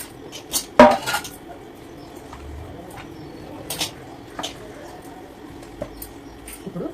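Marinated chicken leg pieces for biryani are mixed in a pot, giving sparse clinks and scrapes of utensil against metal with one sharper knock early on, otherwise quiet handling close by.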